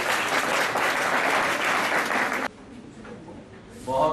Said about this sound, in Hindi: मेरा अनुरोध वाइस चांसलर साहब से तालियों से स्वागत।